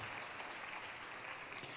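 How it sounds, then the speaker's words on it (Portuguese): A church congregation applauding during a worship service, a faint, steady wash of clapping heard from a distance, with no distinct voices. "vamos aplaudir ao Senhor"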